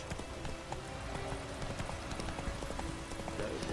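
Horse hooves clip-clopping in the video game The Witcher 3: The Wild Hunt, a steady run of close hoofbeats over a constant outdoor background.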